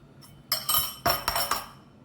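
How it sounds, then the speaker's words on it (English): Two eggs tapped against the rim of a bowl, giving a few short, close clinks and cracks in quick succession, alone without talk. "now I'm going to crack 2 eggs"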